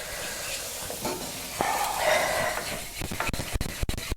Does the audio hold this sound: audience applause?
no